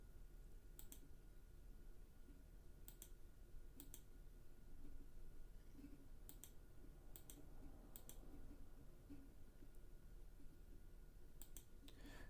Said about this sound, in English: So if I keep clicking undo